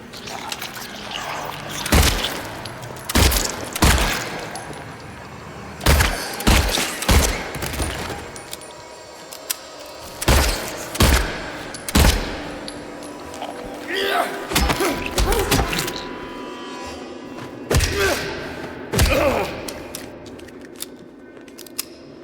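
Gunfire in the Silent Hill 2 Remake video game: a series of sharp, loud shots in uneven bursts, some spaced and some in quick doubles, with game ambience between them.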